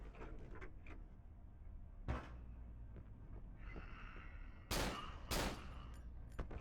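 Gunfire in the video game Cry of Fear: a few sharp, loud shots stand out against a low, steady game ambience, with two close reports near the end.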